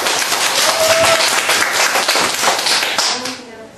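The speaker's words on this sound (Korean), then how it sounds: "자, 박수로 모시겠습니다." Audience applause at a Korean business seminar, dense clapping filling the room at steady loudness before fading near the end, with a voice briefly audible under it.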